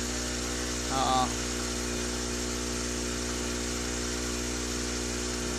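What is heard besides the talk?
submersible pump running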